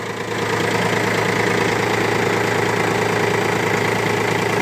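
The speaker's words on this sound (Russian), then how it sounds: "Трактор работает ровно, двигатель работает достаточно четко." A Kubota L1-185 mini tractor's diesel engine idles steadily and loudly at close range, a dense even drone with a light knocking rhythm that holds throughout with no talk.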